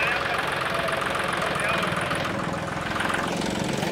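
A modified New Holland tractor engine runs steadily at idle with a low, knocking rumble close by, and a voice talks over it throughout.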